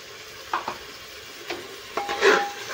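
Spinach paste and potatoes sautéing in a pan for green pulao, with a few soft scrapes of stirring and a faint sizzle, close by and fairly quiet, with no talking.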